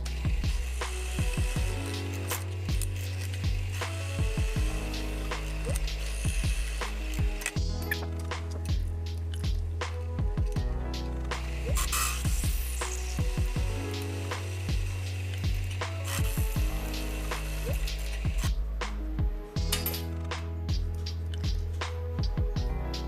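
A drill bores out undersized holes in laser-cut steel flanges for a Toyota turbo manifold, loud and close, with repeated bursts of grinding machine noise over a steady low hum and no talking.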